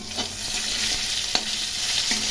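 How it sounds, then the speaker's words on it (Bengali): Potatoes fry in hot oil with a close, steady sizzle, broken by a few light scrapes and clicks of a spatula turning them. "মাছ ভাজা হয়ে গেছে এখন আলুগুলো ভেজে নিচ্ছি"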